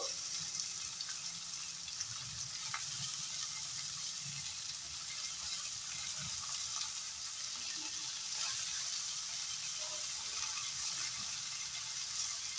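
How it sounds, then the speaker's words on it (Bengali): Boiled potato goes into a pan of frying onions and green chili for aloo paneer paratha filling, giving a steady, moderately loud sizzle with faint clinks and stirring scrapes throughout, no talking. "সিদ্ধ করে রাখা আলুটাও দিয়ে দেবো"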